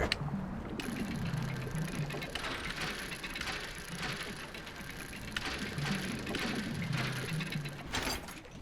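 Dredging machinery on a fishing boat in the video game DREDGE, with a steady mechanical ratcheting and gear clatter over a constant background wash.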